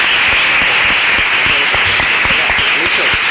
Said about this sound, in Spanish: los alumnos te lo van a agradecer con este aplauso